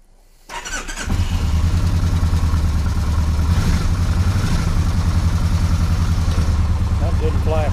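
A 2007 Kawasaki Nomad motorcycle engine, fitted with newly replaced clutch plates, fires up and settles into a loud, steady, close idle in neutral, with a voice briefly heard over it.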